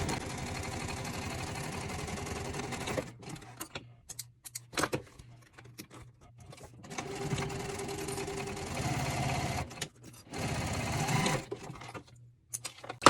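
A sewing machine back stitches the start of a seam on a reusable gift bag, running in steady mechanical bursts with short pauses between them, near and alone without any voices.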